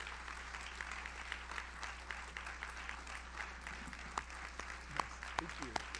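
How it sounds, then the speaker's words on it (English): Audience applause at an academic awards ceremony honoring graduates, a steady, even wash of many hands clapping that holds throughout over a low hum, with a few sharper claps standing out near the end. "Graduates, please join me in a round of applause for those who helped you get here"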